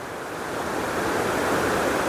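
A waterfall sends down a steady, full rush of water, a dense continuous roar that swells slightly and carries on alone without any voices.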